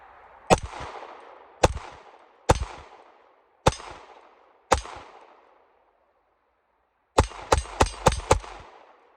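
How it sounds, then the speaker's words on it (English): Shots from a Shadow Systems CR920 pistol, loud sharp close cracks: five single shots spaced about a second apart, a pause, then a quick string of five rapid shots, each followed by a short ringing decay. "I really just enjoy this gun. It's really flat shooting, as you'll see in the video."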